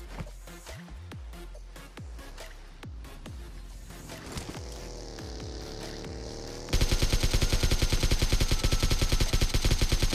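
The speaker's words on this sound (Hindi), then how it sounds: "इसकी बग्गी के टायर यहाँ पे मैं फोड़ देता हूँ" Gunfire bursts buggy tyres in a mobile battle royale game: a string of sharp, separate shots rings out, then a loud, rapid automatic volley rattles on without pause.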